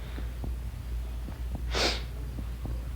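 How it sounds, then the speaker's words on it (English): A single short, sharp sniffle or snort from a person still recovering from heavy crying, heard once, close and fairly loud against a quiet background. "I'm still sniffling because I'm still dealing with a little bit of the after effects of it"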